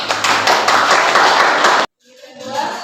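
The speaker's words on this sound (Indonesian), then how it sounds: "Tepuk tangan" Classroom clapping from a group of students, a dense, loud burst of many hands lasting nearly two seconds before cutting off abruptly, followed by faint room noise.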